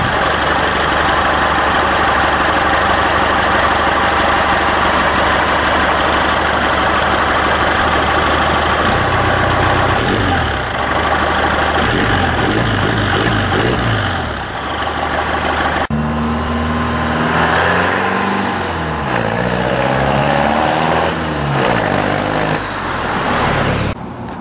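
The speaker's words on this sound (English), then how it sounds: "this here is my 1982 F-150 converted to a Cummins turbo diesel" A 1982 Ford F-150 converted to a 4-cylinder Cummins turbo diesel idles loudly and close, a steady rumbling clatter that shifts in pitch partway through as the engine note changes.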